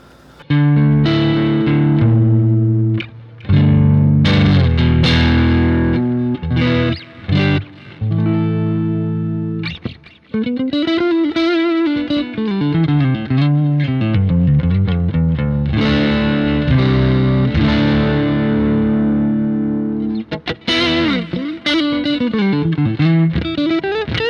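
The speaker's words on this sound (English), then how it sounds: "just like a kind of edge of breakup tone kind of thing with a little bit of reverb" An electric guitar played through a Donner Pocket Go preset with an edge-of-breakup tone and a little reverb, strummed chords and single-note lines ringing out loud and continuous, with no talking.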